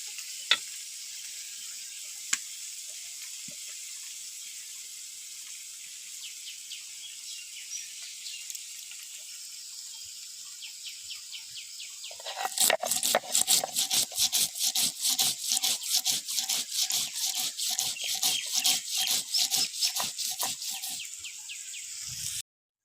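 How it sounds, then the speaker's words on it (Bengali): Cumin and mustard seeds are ground together on a grinding stone: after a quiet stretch of faint hiss, a fast run of regular rasping back-and-forth strokes starts, close and loud, continuing steadily for about ten seconds before stopping. "এবার জিরে আর সর্ষে একসঙ্গে বেটে নেবো"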